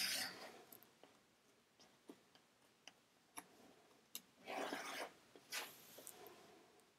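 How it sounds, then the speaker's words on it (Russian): A craft knife drawn along a ruler trims the edge of a fabric patchwork card on a cutting mat, giving faint scattered ticks and short raspy scraping strokes close by in a quiet room, with no talk. "при помощи ножа и линейки на мате я обрезаю ее ровно-ровно"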